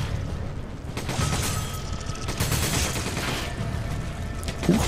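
Gunshots in Resident Evil 5 crack in a busy burst of fire mixed with mechanical clatter and low booms, moderately loud over steady game ambience.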